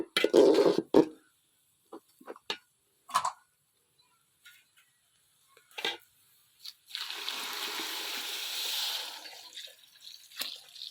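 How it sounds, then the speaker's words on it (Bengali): Water being poured into a biryani pot of fried rice. A few scattered knocks and clatters come first, then a steady rushing pour lasts about three seconds before tapering off. "এবার পানি দিয়ে দেবো।"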